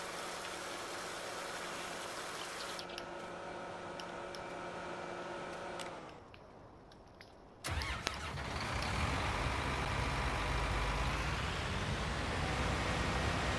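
A tractor engine in Farming Simulator 19 runs at a steady idle hum, cuts out briefly, then restarts with a thump and settles into a louder, rougher idle.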